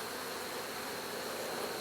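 Honey bees buzz steadily at a hive entrance during an autumn check on a colony with a new laying queen, a dense continuous drone close by with no voices over it.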